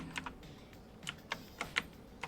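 Computer keyboard keys pressed while playing Nobody Saves the World, a handful of quiet, irregular clicks spaced across a couple of seconds with no talking.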